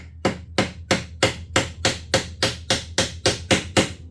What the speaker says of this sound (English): A small hammer. I'm going to try and shove that choke in.